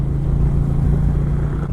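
Steady low engine drone of a 2020 Indian Challenger Dark Horse motorcycle cruising at about 70 mph and 2900 rpm, a constant loud hum with wind rush, no talking.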